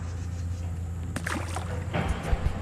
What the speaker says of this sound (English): About to have to do some paddling.